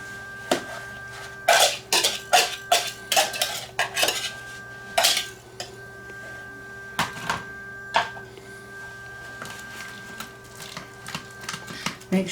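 Beaten eggs being mixed into banana muffin batter in a bowl, with a series of loud, sharp clinks and scrapes of a utensil against the bowl, clustered early and then spaced out, with no talking.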